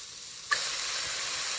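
Pork chops and a ham bone hit a hot frying pan with a sudden burst of bright, steady sizzling hiss that follows a brief quiet moment and then holds evenly, close up and with no talking.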